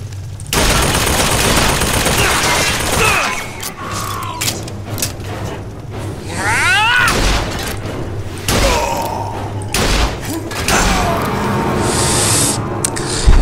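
Dense video game gunfire from Bioshock Infinite: Burial at Sea, with loud rapid bursts and a sustained fusillade, then scattered shots, mechanical clicks and effects, and a player talking at times.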